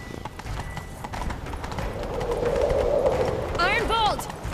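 Hooves clip-clop rapidly as a horse gallops in The Witcher 3, a steady pounding rhythm building in loudness, with a whinny-like cry and speech mixed in near the end.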